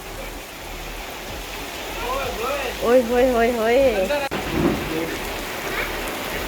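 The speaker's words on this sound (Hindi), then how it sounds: "क्रेजी बारिश शुरू हो गई है।" Heavy rain pours down in a steady, dense hiss on surfaces outdoors, while a voice exclaims excitedly over the downpour.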